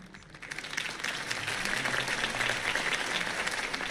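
A crowd applauding after a campaign speech for Harvey Dent in the game Batman: The Telltale Series, dense sustained clapping that swells in the first second and holds steady, fairly loud.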